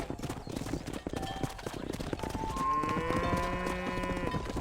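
Horse hooves clip-clopping at a steady gait while riding through Red Dead Redemption's western cattle country, joined by a brief neigh and a voice calling out over the hoofbeats.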